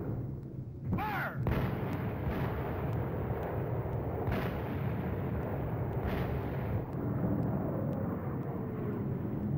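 An artillery battery fires in a 1953 Korean War battlefield film, heavy booms over a dense continuous roar, with sharp blasts repeating every couple of seconds across a loud, busy battle soundtrack.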